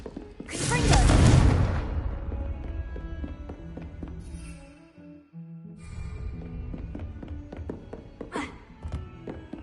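A Confringo fire-blast spell cast in Hogwarts Legacy lands as a loud, booming burst near the start and rumbles away, followed by lighter impacts and clatter under game ambience.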